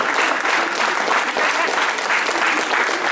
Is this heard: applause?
yes